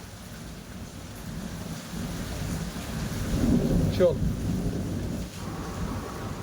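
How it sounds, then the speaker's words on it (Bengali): Steady heavy rain with large drops, rumbling low thunder swelling in the middle, and a brief spoken voice over the downpour. "বৃষ্টির যে ফোঁটা বড় বড় আকারে আসছে"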